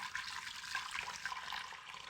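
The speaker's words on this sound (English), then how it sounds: "All you need is 6 cups of water. We're going to start with that in our Instapot." Water poured into an Instant Pot, a steady splashing stream with bright droplet detail, close by and moderately quiet, running continuously without speech.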